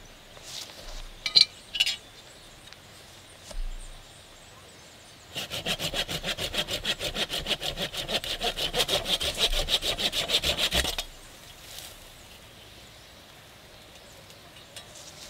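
A hand saw cuts through a Calliandra tree branch in a steady, rapid back-and-forth rhythm for about six seconds, close and fairly loud. A few scattered clicks and knocks come before the sawing, and it stops abruptly.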